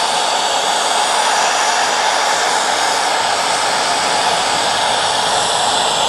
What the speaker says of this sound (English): Let's get closer with the torch.